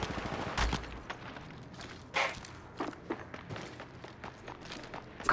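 Bursts of gunfire in the mobile battle royale game Apex Legends Mobile crackle through a busy firefight, with a sharp loud volley near the start and repeated shorter shots and thuds following at an uneven rhythm.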